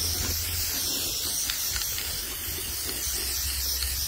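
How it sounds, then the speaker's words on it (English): Spray paint hisses from an aerosol can onto a metal file cabinet being turned into a garden bed, a close, steady spray with slight pulses in strength and no talking. "And this is my last can of spray paint."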